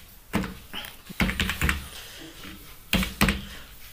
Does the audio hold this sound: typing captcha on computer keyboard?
yes